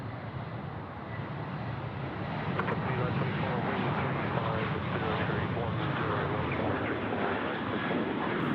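A jet airliner lands on runway 34 left at Sydney Airport with a steady, loud roar that swells slightly and holds, while a voice talks over it.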